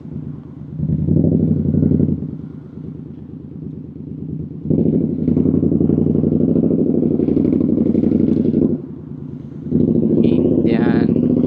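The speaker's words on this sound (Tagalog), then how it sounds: "Pakinggan natin yung tambutso nitong Indian na motor." An Indian motorcycle's exhaust revving in bursts, a loud close rumbling drone that swells, drops back to idle and surges again, with a brief higher whine near the end.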